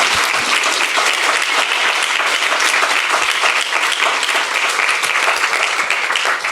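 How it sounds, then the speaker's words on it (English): A large audience at a 2024 International Women of Courage event gives the honoured women a sustained round of applause, loud, dense and unbroken throughout, with no talking over it. "can we give a round of applause again for these incredible women that have shared their stories?"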